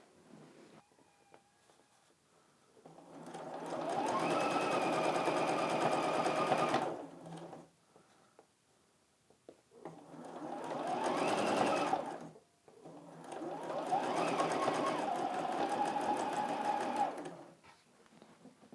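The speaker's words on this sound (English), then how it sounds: "I'm going to grab the next piece over, flip it over, and sew the seam." An electric sewing machine stitches a patchwork quilt seam in three steady motor bursts separated by short pauses, fairly loud and up close, with no talking.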